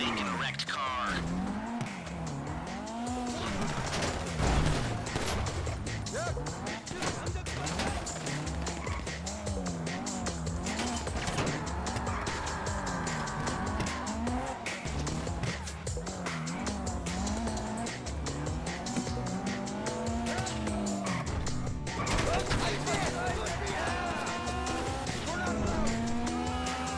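A car in the video game GTA Online drives and skids, engine revving and tires squealing in repeated sweeps over a dense, continuous game mix lasting the whole stretch.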